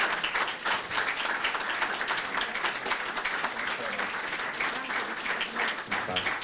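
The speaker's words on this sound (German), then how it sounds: "Einen riesen Applaus." Audience applause at a book presentation, steady dense clapping from a crowd that continues evenly for several seconds, moderately close, with faint voices mixed in.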